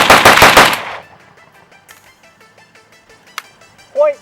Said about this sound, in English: this is going to be our rapid fire test with our new ALG trigger